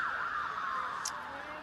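An ambulance siren wails steadily as it passes during a state pairs women's lawn bowls semi-final, its pitch sliding slowly downward as it recedes, loud and continuous throughout.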